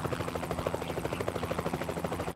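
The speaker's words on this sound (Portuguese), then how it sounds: "Você tá num helicóptero, não tá?" A cartoon helicopter in flight, its rotor thumping in a steady, rapid, loud beat that continues without a break.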